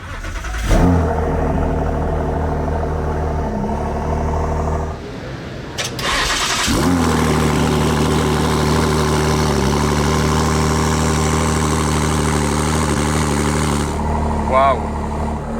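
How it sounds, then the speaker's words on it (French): Mansory-tuned car engine at the Monaco Yacht Show 2024 cranks and fires loudly up close, cuts out briefly, restarts and settles into a steady rumbling idle, with people talking over it. "On va démarrer l'engin, le vaisseau spatial."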